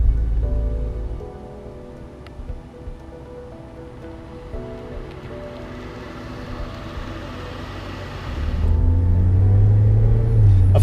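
A 2008 Cadillac XLR-V with its Northstar engine cruising on a highway, a steady low engine drone and road rumble that swells louder toward the end as the car pulls harder.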